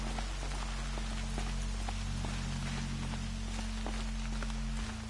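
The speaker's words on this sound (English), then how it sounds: "More rain" Steady, dense rainfall in Horizon Zero Dawn, a constant hiss with scattered droplet ticks over a low rumbling hum that drops out near the end, with no voices.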